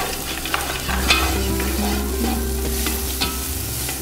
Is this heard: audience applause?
no